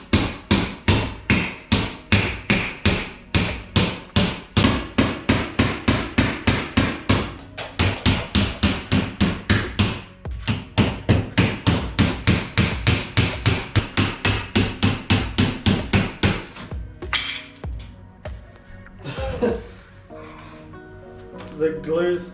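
A hammer strikes a bolster chisel in rapid, regular blows, chipping thick glue and plaster off a kitchen wall during a renovation; dozens of loud, close metallic impacts run in steady bursts before a pause with scraping.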